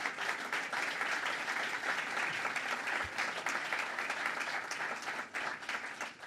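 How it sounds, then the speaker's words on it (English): Sustained applause from a large crowd at a children's museum dedication ceremony, dense clapping holding steady and then tapering slightly toward the end. "Let's give another round of applause to the team."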